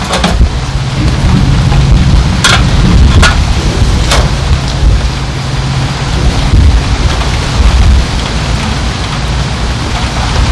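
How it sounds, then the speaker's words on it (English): Heavy rainstorm pours down during outdoor Dutch oven cooking of a pork roast, a dense steady hiss of rain with low rumbling thunder underneath and a few sharp crackles, loud and continuous with no talking. "Nothing like doing outside cooking in a storm."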